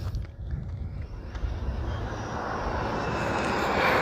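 A high-speed RC car, an Arrma Limitless or Traxxas XO-1 fitted with speed gearing, whines steadily at full throttle, a loud continuous motor roar that builds slightly in pitch and volume as it runs.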